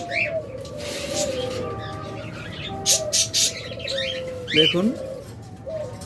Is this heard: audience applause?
no